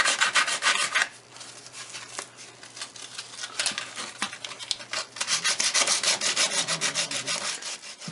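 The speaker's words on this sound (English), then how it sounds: "I'm going to prep the wall with some very coarse sandpaper" Very coarse sandpaper scrubbing a wall to prep it for a tile backsplash, with rapid back-and-forth rasping strokes that pause briefly, then return in a fast steady rhythm, close and alone.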